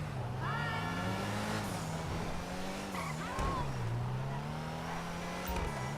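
Ocelot Ardent, a Lotus Esprit, driving in a video game. Its engine holds a steady, loud drone with shifting pitch and occasional tyre squeal, and a voice can be heard over it.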